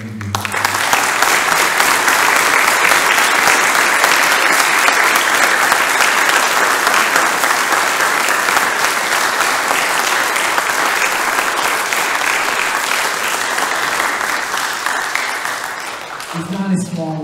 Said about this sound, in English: give these young men and women another round of applause